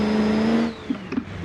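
A diesel crew cab offroad truck in BeamNG Drive runs with a steady droning engine tone that cuts off partway, followed by a few soft thuds and clunks.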